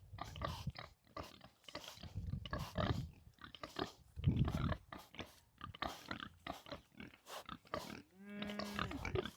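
Pigs on a ranch grunting and snuffling up close in a run of short, rough bursts, fairly quiet overall, ending with a brief higher squeal.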